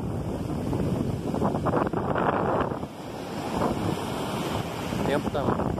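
Strong wind on the beach at Farol de São Tomé, Rio de Janeiro, buffeting the microphone in loud gusts with surf rumbling underneath, steady with brief lulls and no clear talking.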